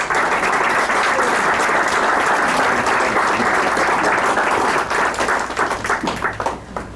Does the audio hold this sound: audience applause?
yes